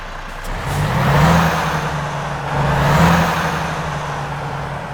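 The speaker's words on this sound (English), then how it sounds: "It's all powered by a Volvo D13. I believe it's the 500 horsepower variant today, so let's go ahead and get it started up" A Volvo VNL 740 truck with a 500-horsepower Volvo D13 diesel engine in American Truck Simulator cranks and starts, then settles into a low steady idle with two gentle swells in revs, close and loud, with no talking.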